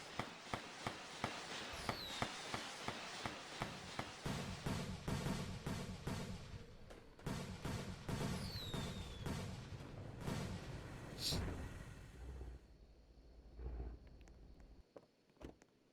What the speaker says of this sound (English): For some reason, this fireworks makes an explosion.